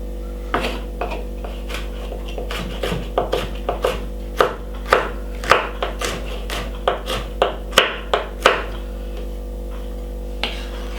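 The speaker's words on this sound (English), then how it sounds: "cut up some stuff for this now. Like we got yellow pepper, which is a must." Knife chopping a yellow pepper on a cutting board for a classic potato salad, about twenty crisp, evenly spaced cuts that quicken near the end, close and fairly loud over a steady low hum.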